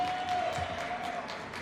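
An audience in a crowd at a Ward 8 Democrats candidates' forum applauds for Councilmember Anita Bonds, a steady wash of clapping sustained for under two seconds with no talk over it.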